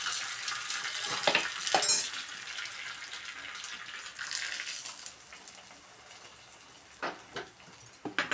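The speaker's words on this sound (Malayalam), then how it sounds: "വെളിച്ചെണ്ണ ഒഴിച്ച് കൊടുത്തിട്ട് കടുകും വറ്റൽമുളകും കറിവേപ്പിൻ്റെ ഇട്ടിട്ടാണ് കേട്ടോ താളിക്കുന്നത്." Mustard seeds, dried chillies and curry leaves frying in coconut oil in a small pan, a faint hiss and spatter with a few sharper crackles and pops near the end.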